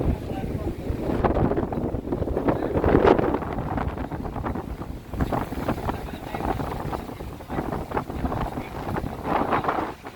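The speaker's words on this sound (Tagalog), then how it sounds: "Grabe ka kusog sa hangin." Strong gusting wind at a beach roars steadily against the microphone, a rough buffeting that continues throughout without letting up.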